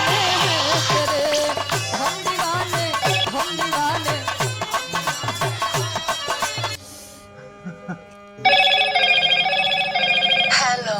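A phone rings during a call in an Awadhi comedy skit, heard as a repeating electronic ringtone pattern that takes over after a stretch of loud music and voices, with its steady pulsing tones ringing out clearly near the end.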